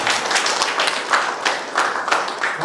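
Audience applause at a Korean academy event ceremony, a dense crowd clapping steadily and loudly throughout with no talk over it.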